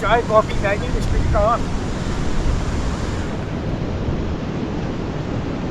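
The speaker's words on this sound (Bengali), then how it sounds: "ও পাহাড় থেকে জলটা পড়ছে" Water tumbling down a mountainside at Sonmarg, Kashmir, makes a steady, close, broadband rush that fills the whole clip, with a few brief voices at the very start.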